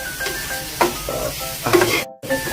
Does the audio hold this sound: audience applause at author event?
no